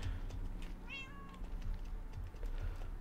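Minecraft cat gives one clear meow near the start, a brief bright call sliding downward, set against constant low game ambience with scattered faint clicks and no voices.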